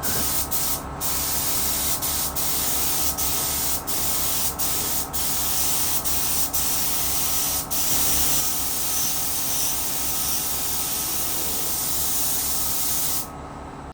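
Spray gun applying high build primer to a car wing on a Subaru-powered Porsche 911 replica, a steady close hiss running almost continuously with brief trigger breaks, then cutting off at the end.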